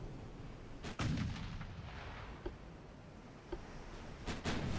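Heavy 18-inch naval guns boom in a WWII-era warship battle in Ultimate Admiral Dreadnoughts, Germany 1940 campaign: a few sharp distant blasts with rumbling tails, spaced over a steady low ambient roar, no voices.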